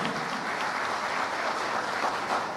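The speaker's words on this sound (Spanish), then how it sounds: "Que se siente ese aplauso" Audience applause for a conference opening day for law students and lawyers, a steady dense clapping from a crowd filling the whole stretch at moderate level.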